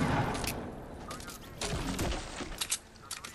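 Video game gunfire crackles in scattered bursts and single sharp shots, moderately distant, with a voice talking underneath.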